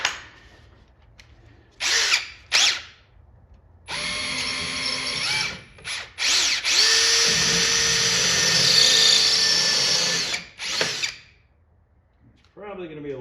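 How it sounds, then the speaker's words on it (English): A power drill with a 5/32 drill bit drills out rivets on a Pole Position arcade cabinet, giving a few short whirring bursts and then a long, loud, sustained run that winds down into silence. "I can drill these rivets right now without taking that speaker out"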